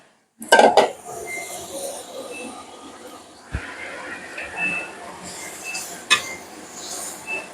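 Shrimp sizzling in a pan while cooking bhuna khichuri, a steady hiss with sharp metallic clinks and scraping of a utensil against the pan, loud and close.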